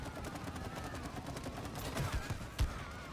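Gunfire in the video game It Takes Two, a steady stream of rapid shots at moderate volume with a couple of sharper heavy hits toward the end.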